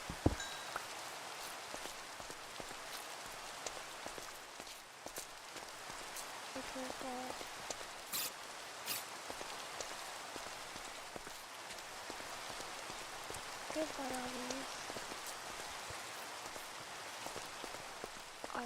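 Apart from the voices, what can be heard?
rain in a video game (Minecraft Cobblemon)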